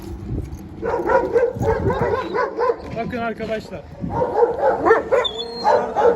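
Several Akbash dogs bark and yip repeatedly nearby, with whimpers mixed in, while someone speaks briefly over them.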